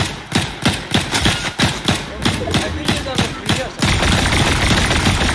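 Video game gunfire, loud and close, in rapid rhythmic bursts of a dozen or so sharp shots that stop abruptly, followed by a dense steady rumble.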